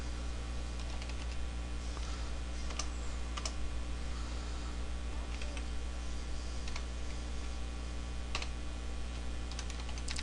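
Typing code on a computer keyboard, with scattered light key clicks in short irregular bursts, faint over a steady low fan hum and no talk.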